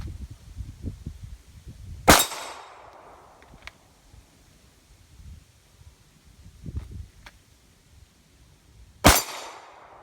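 Two sharp, loud shots from a Glock 42 single-stack .380 pistol, several seconds apart, each a crisp crack with a brief ringing tail amid quiet outdoor background.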